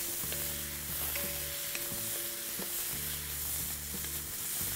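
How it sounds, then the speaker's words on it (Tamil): Carrot, onion and tomato sautéed in a pan for tomato soup, a soft continuous sizzle with periodic stirring scrapes at a moderate distance, fairly quiet, with no voices. "அந்த தக்காளியை போட்டு இதை நல்லா வதக்குங்க."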